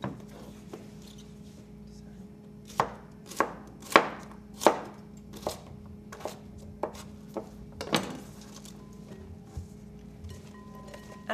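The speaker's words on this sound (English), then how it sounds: "we're simply going to slice it somewhat thinly like we would an onion" A knife thinly slices fennel on a cutting board, making about a dozen crisp, close taps in an uneven rhythm, clustered in the middle and thinning out toward the end over a quiet background.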